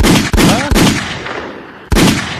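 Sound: gunshot sound effect

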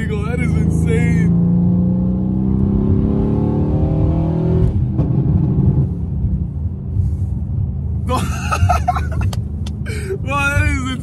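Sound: 1000 hp PTG-tuned Mercedes-AMG C63s accelerating

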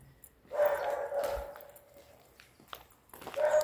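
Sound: dog barking

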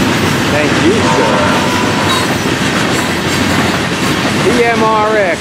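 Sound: FEC freight train with four bay hopper cars passing

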